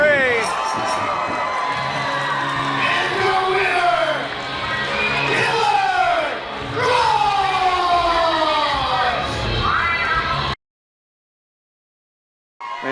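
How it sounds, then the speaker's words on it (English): Chanting from a crowd at a pro wrestling event, loud rhythmic rising and falling voices filling the arena, then a sudden cut to silence near the end. "You hear some of the crowd chanting"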